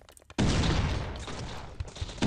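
Shooting in the pixel-art shooter game Survivalism sounds as a sudden dense burst of rapid gunfire that starts after a brief quiet moment and stays loud and continuous to the end.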